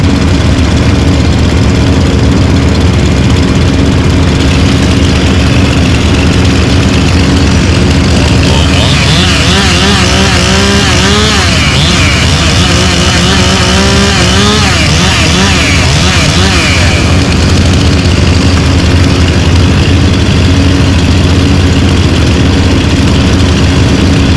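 A loud, steady Stihl chainsaw engine drone close by, continuous throughout, with a stretch of warbling, revving tone in the middle and a voice speaking underneath.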